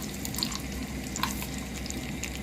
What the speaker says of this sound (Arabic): هنحمر حبه مكسرات